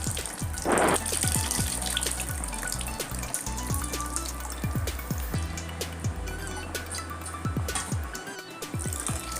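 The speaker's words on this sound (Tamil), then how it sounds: "இப்போ இந்த ஸ்டேஜில் நம்ம புளி கரைசல் ஆட் பண்ணிக்கலாம்." Tamarind extract pours and splashes steadily into a pan of Chettinad chutney, with scattered drips and bubbling throughout, fairly close and continuous.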